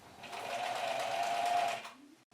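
A Bernina sewing machine stitches in one short burst of rapid, steady whirring, close and moderately loud, rising quickly and stopping after under two seconds.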